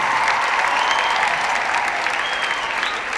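Audience at a school athletics event giving loud, sustained applause, a dense wash of clapping hands at steady volume throughout, with no one speaking over it.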